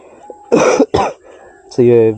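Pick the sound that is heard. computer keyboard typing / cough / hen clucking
cough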